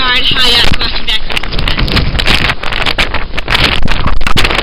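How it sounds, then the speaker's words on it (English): Strong blizzard wind roars and buffets the microphone in a constant loud rush on an emptied city street, with heavy low-end gusting noise that masks everything, broken only by a few faint voices. "As you guys can see, walking against this wind is very hard."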